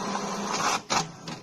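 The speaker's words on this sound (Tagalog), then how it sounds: "It's printing." An HP DeskJet all-in-one printer runs through a page, giving a steady mechanical whir broken by short feed clunks and a brief pause, heard close.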